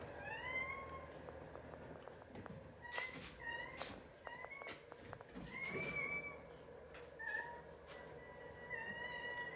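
A kitten meows repeatedly, high and thin, in a string of short cries spread across a quiet room, with no talking.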